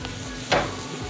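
Butter sizzling in a pan heated to 400 degrees over a fire, a steady close hiss with a brief surge of crackle midway, with no voices.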